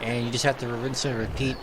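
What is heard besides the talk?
None of the usual background noises is heard.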